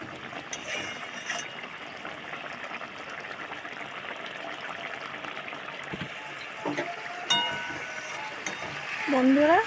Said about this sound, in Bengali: এবারে একটু নেড়ে দেবো